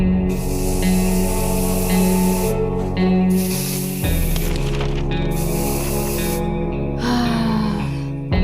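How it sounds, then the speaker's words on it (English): Bug spray hissing in the video game 60 Seconds 2, short loud bursts of spray over continuous game music, repeated several times and close up. "We have bug spray, though."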